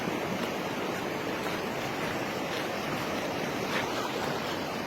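Steady, dense rushing of a strong, rising river current fills the whole clip, a continuous loud roar with no pauses or voices.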